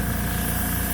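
Paint spray gun hissing steadily onto a paper towel while mixing paint for a 1965 Coronet, a close, continuous broadband spray with no talk.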